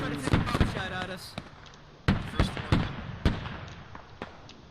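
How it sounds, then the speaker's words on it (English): Sharp bullet cracks of incoming gunfire in the Squad video game, during a one-life event round: several distinct snapping impacts spaced irregularly, fairly close, with voices talking over the first part. "Anybody else hear that bullet crack come towards us?"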